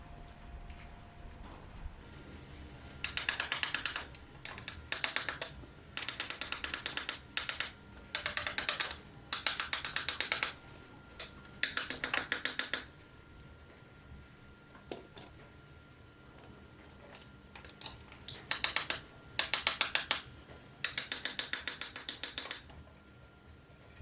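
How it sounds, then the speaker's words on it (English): A specialist carburettor tool seats parts on a Kawasaki ZL600 Eliminator motorcycle, giving repeated bursts of quick, light clicking and tapping. The bursts come in clusters separated by short quiet gaps, close to the microphone. "So they are all seated now using my specialist carb tool."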